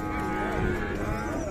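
Cattle at a livestock fair give a brief low moo, fairly close, over a steady din of crowd and animal noise.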